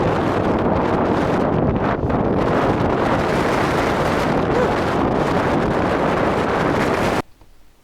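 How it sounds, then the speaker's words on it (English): Heavy seaside wind pounds a Sony RX10 IV's microphone near breaking white waves, making a loud, unbroken buffeting roar that cuts off abruptly into near silence at the very end. "It got really windy."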